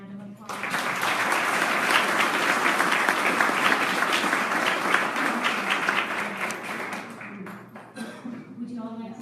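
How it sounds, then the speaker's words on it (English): Audience applause for student council representatives at a council meeting, a full round of many hands clapping steadily for several seconds before easing off, with some voices over it. "Let's give them a round of applause."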